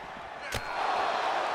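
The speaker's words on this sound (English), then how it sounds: "the crowd is going wild" A wrestling video game crowd swells into a loud, sustained roar of cheering, rising after a single sharp slam-like impact near the start.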